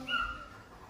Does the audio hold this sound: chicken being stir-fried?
no